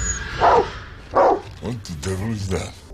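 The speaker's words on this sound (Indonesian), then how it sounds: "tiba-tiba Huck, anjing milik Toby, terus saja menggonggong" A dog aboard a ship barks twice in loud, close, throaty woofs, followed by lower whining growls that trail off; a voice speaks over the later part.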